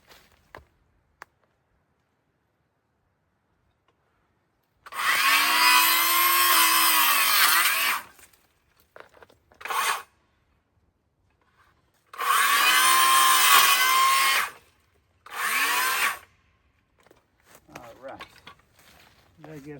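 A battery-powered Dewalt tool cuts wires near a log outdoors in two long loud bursts with shorter spurts between, separated by quiet pauses.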